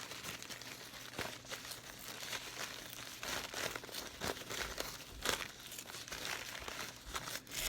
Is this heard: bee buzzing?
no